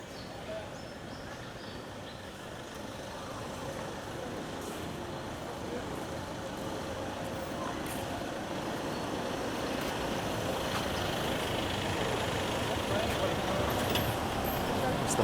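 Buses rolling along a road on Koh Samet Island, Thailand, a steady broadband traffic rumble that slowly builds louder over the whole stretch, with a little wind and no clear voices over it.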